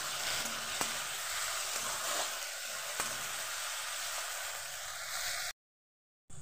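Potatoes with turmeric and salt frying in a pan, a continuous close sizzle with a few faint utensil taps, steady until it cuts abruptly to silence near the end.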